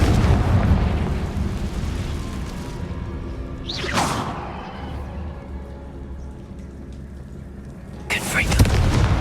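A Confringo fire spell from Hogwarts Legacy goes off with a sharp whooshing blast midway, then a second burst near the end, both over a steady rumbling game background.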